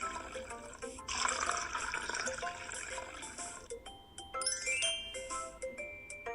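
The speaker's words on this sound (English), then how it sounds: "Now start pouring vegetable oil into small glass." Vegetable oil poured into a small glass set inside a larger glass, giving a faint liquid trickle with light glassy tinkles and clinks, quiet and close, with no voice.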